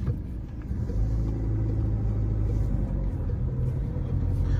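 A car pulls away from a green light in first gear on a driving-test route in Rosny-sous-Bois, a low steady engine rumble filling the cabin with no talk.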